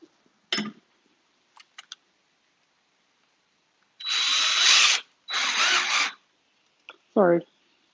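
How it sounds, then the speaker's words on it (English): A power drill drills a hole in a craft piece in two close, loud whirring bursts of about a second each, surrounded by light clicks and a short bit of speech. "I want to drill the hole here."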